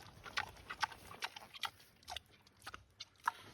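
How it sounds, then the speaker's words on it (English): Pigs eat vegan potato latkes with applesauce, a Hanukkah treat, chomping in quiet, irregular crunchy bursts of chewing and biting with no voices over it. "I love listening to pigs eat"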